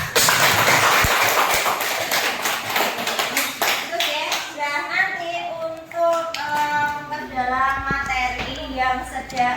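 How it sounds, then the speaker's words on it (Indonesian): Schoolchildren in a classroom clap together for a presenting group, a brief burst of sharp handclaps that quickly gives way to children's voices and chatter. "kita beri tepuk tangan sama-sama"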